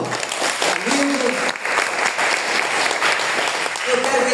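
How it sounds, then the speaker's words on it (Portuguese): A church congregation applauds Pastor Paulo at a Sunday morning anniversary service, dense steady clapping that fills the room, with a few voices calling out over it. "vamos aplaudir o pastor Paulo"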